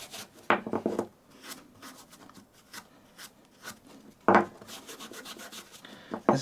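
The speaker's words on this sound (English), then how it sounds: "Just get a little bit on the stock and rub the surface over." A cloth or hand rubbing raw linseed oil over the wooden stock of a 1960s Marples pin marking gauge with a shellac finish, soft quiet friction strokes with a few louder scuffs and short rasps, close and alone.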